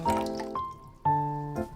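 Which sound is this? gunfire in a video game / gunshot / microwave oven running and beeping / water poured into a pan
water poured into a pan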